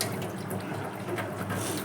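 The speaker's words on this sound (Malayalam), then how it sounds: "കുറച്ചുകൂടെ വെള്ളം ഒഴിച്ചിട്ട് നമുക്ക് വെച്ചേക്കാം." Water runs steadily into a pot of soaking chickpeas in a home kitchen in the early morning, a continuous close splashing pour with no talking.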